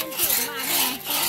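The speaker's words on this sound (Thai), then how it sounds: "เลื่อยมืออย่างเดียวพี่น้อง" A hand saw rasps through wood in quick rubbing strokes, close and fairly loud, over a brief stretch with no talking.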